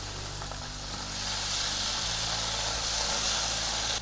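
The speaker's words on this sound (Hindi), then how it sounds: "मसाले के साथ भी मटर को भूनेंगे।" Peas roasting with masala in a pan, giving a broad, steady hiss of frying that grows slightly louder, with a low background hum and no speech.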